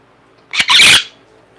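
An Amazon parrot screams indoors, a short shrill burst followed by a longer piercing squawk lasting about half a second, loud and close against a quiet room.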